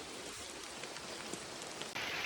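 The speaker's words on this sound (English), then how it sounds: "So the rain hasn't slowed down around here, and it's wet everywhere." Heavy rain pours through a wet forest below an active volcano, a loud unbroken hiss of drops on leaves and ground, close and constant, with no voices.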